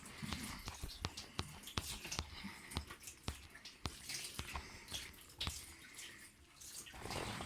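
Water runs into a slow cooker pot as it is washed in a kitchen sink, with a steady splashing wash punctuated by sharp clinks and knocks of the ceramic pot, close and moderately loud throughout.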